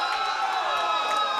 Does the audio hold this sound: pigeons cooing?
no